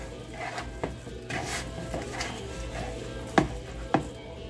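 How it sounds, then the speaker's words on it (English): Ground hamburger meat being worked together with hot sauce in a bowl for jerky, giving soft wet squelching and stirring noises with a couple of sharper knocks against the dish, close and fairly quiet, no talking. "I'm just gonna mix it all up."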